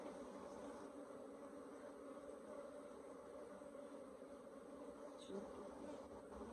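A steady, dense hum of many honeybees, acting fussy like Africanized bees, buzzing continuously around a hive during an inspection, fairly quiet and unbroken from start to finish.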